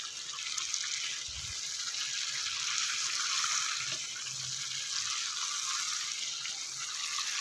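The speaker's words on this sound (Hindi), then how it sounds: "ये देखें, अच्छे से मिक्स करते हुए चलाते हुए इसको भून लेना है।" Mutton karahi with yogurt being stirred and fried in a pan, a steady hissing sizzle throughout, close and moderately quiet, with a few soft scraping knocks of the spoon.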